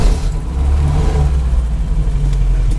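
A 1971 Opel GT on the road, its engine revving and pulling with a steady mid-pitched drone that rises and falls slightly as the car accelerates, loud and close with no talking.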